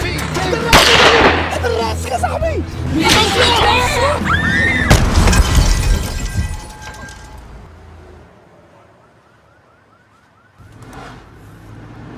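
Gunfire in a Moroccan film set in Paris, loud sharp cracks bursting amid shouting voices and a siren-like wail, then fading to a quieter stretch with a distant tone.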